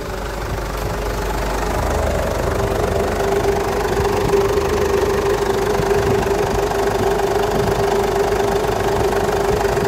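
A car engine that started only after three hard cranking attempts now idles steadily with a low rumbling drone and a faint knock, close and continuous for the whole stretch.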